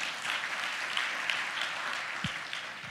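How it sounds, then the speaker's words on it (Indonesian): A church congregation claps during a Sunday service, a steady wash of applause filling the room for about three seconds, fairly loud and even with no break. "Kasih tepuk tangan untuk Tuhan."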